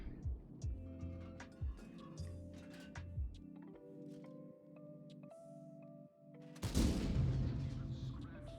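In the World of Tanks video game, a tank cannon shot bounces off an enemy turret as a sharp metallic burst amid clicking game interface ticks. A loud impact comes near the end, with no talking.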